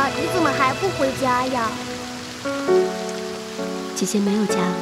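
Heavy rain pours steadily in a drama scene, a constant wash of falling water running beneath a conversation between a child and a woman.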